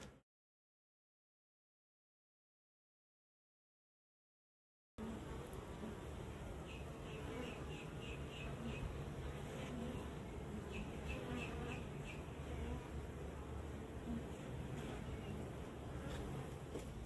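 Honeybees buzzing in a hive while a frame is lifted out of a frame isolation cage, a dense, steady hum with faint higher whines that starts abruptly after about five seconds of silence.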